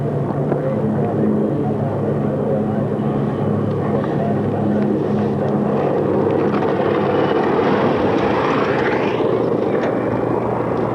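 Aircraft on short final approach at a fly-in event, a steady loud engine drone with a whining sweep near the end and no talk over it.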